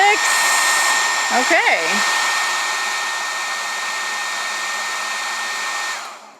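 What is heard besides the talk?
1870 watt hair dryer running on a Jackery Explorer 1500 power station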